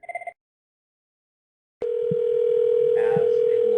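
A Cisco CUCM phone call going out to the public phone network: a brief burst of beeps, then nearly two seconds of silence, then a loud, steady call tone that holds to the end over faint line noise.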